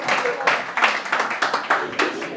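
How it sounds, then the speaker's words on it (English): Audience clapping at a Jewish dating class, a loose run of claps at a roughly steady rhythm, moderately loud and close, with no talk over it. "Clap!"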